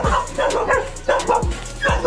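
Dogs bark and yip at a cat in four or five sharp, separate bursts, fairly loud and close, with whimpering between the barks.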